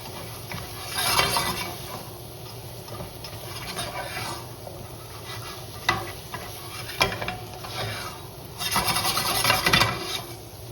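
Home fries with cumin being stirred in a pan over a low flame, a steady scraping, rasping rub of spatula on metal with soft sizzle underneath and a few louder scrapes, no talk.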